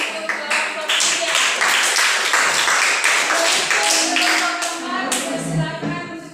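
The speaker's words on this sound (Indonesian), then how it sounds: "Oke, tepuk tangan untuk kelompok 3." A classroom claps for the third group, a dense burst of many hands clapping together that holds loud and steady for several seconds before thinning out at the end.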